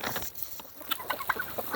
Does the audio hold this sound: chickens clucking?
yes